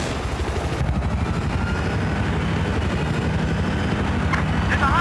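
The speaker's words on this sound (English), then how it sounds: "It's a hostile helicopter," Hostile helicopter in the Battlefield 4 video game on the Dragon Valley map, a steady loud rotor-like drone under dense battle noise with possible gunfire, continuous for the whole stretch with no talk.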